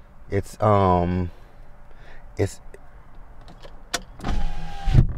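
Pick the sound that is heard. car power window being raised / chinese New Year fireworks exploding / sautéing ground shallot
car power window being raised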